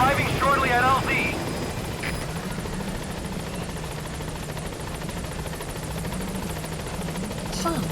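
A helicopter in the Metal Gear Solid V video game approaches a landing zone, its rotor making a steady, loud, continuous thrum that holds throughout, with brief radio chatter at the start.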